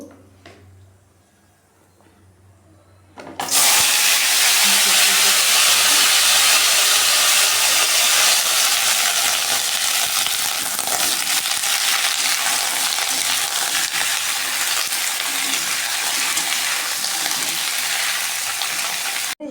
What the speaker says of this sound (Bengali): কড়াইতে তেল দিয়ে দিচ্ছি আর হচ্ছে জিরা পোড়ন দিয়ে দিচ্ছি এখন হচ্ছে আমি সবজিগুলো দিয়ে দিব